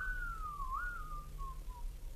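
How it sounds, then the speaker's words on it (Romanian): One person gives a single drawn-out whistle that wavers slightly and slides down in pitch before trailing off, set over a low steady hum. "De ce fluiere?"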